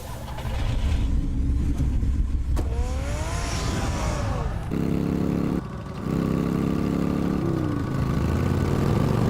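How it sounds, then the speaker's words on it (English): A car engine revs loudly in the Batman Telltale Series game, rising and falling in pitch through several throttle bursts with a steady rumbling idle between them, close and alone. "Get the car ready, Alfred."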